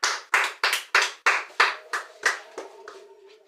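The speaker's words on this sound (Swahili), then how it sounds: "Piga makofi." A class of students claps hands together in a run of about seven sharp, loud bursts, then the clapping fades into softer, scattered claps.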